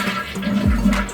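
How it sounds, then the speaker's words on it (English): A toilet with a bidet attachment being fitted is flushed, giving a short, loud gush of water draining from the bowl. "Flush the water."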